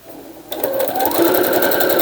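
A sewing machine starts up after a short quiet moment and runs continuously, stitching fabric pockets with a fast, even, close mechanical chatter.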